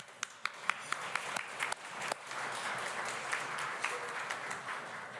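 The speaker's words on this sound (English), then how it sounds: "Keep on clapping until she gets up" At a conference, scattered sharp claps for Chief Tanya Stone quickly swell into fuller, sustained audience applause that carries on at a steady level.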